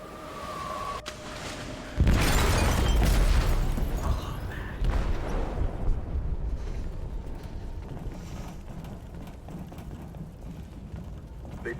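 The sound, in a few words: explosion in the ship's hold in the video game Detroit: Become Human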